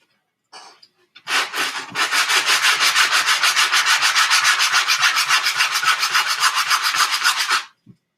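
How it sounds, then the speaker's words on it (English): Sandpaper smoothing a freshly cut surface on a homemade bootleg BB gun, a brief scrape, then a steady run of fast rhythmic back-and-forth rasping strokes, close and loud, stopping abruptly near the end. "now I'm going to take some sandpaper and smooth it out just a little bit"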